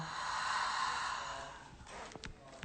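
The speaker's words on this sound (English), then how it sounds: "2, 1, exhale." A forceful exhale during guided breathwork: a single long, airy breath out that fades, followed by a few soft rustles, with no talk over it.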